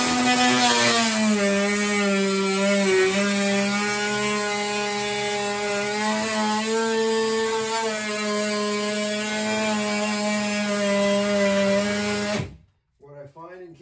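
A small blade saw cuts drywall in water-damaged home restoration work, giving a loud, steady high-pitched whine with a faint wobble that runs for about twelve seconds and then stops abruptly.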